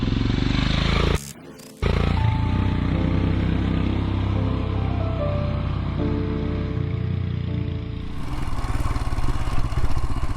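A Royal Enfield Himalayan motorcycle rides along a wooded trail, its steady mid-pitched engine drone close and continuous, with a brief dip near the start and the engine note rising toward the end.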